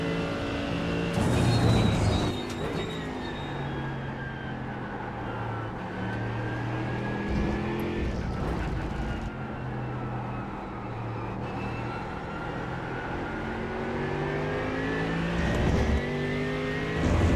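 A race car at Silverstone in iRacing roars steadily through shifting gears, its engine note sweeping up and down over about seventeen seconds, loud and close, with tire noise beneath and no talk.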